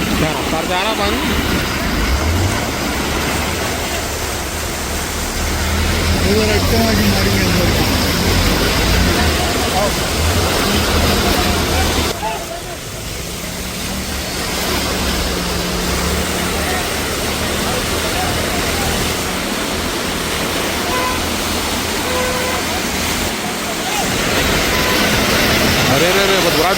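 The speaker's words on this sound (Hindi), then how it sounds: "क्या रफ्तार जा रहा पानी।" Floodwater rushing fast through a drain during heavy rain in Bandlaguda, a loud, continuous roaring torrent close by, with people talking over it.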